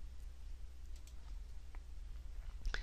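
Faint clicking from a computer mouse while working in Lightroom, a few soft clicks heard over low background hum and no talking.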